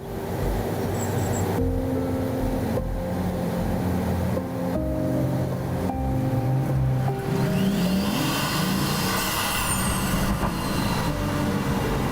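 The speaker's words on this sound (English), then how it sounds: "The exhaust shots are just amazing." A Pagani Huayra's engine roars loud and near, climbing and dropping in pitch through repeated revs and shifts, with sharp exhaust cracks punctuating the run and no voices.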